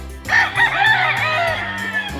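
A rooster on a farm crows once, close and loud, a drawn-out call with other fowl clucking faintly around it.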